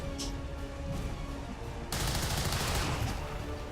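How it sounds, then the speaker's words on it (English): Soldiers firing at enemies in the turn-based strategy game XCOM 2, a few scattered shots at first and then a sustained, loud burst of automatic gunfire, with no talking. "Let's just have you shoot at people."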